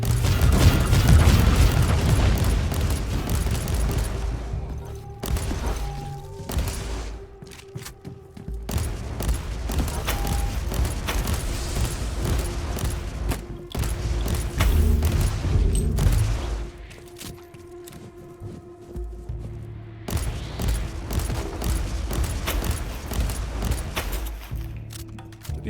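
Heavy explosions and gunfire rumble through a Warhammer 40,000: Inquisitor – Martyr battle, with loud booming blasts and rapid crackling bursts repeating over most of the stretch before easing briefly and returning.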